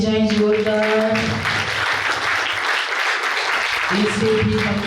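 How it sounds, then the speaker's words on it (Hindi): An audience at an award and gathering event held by the Brahma Kumaris in Karnal breaks into loud, sustained applause. Someone speaks over a microphone before the clapping and again as it dies down. "आप सब इनके लिए भी ताली बजाएं जोरदार।"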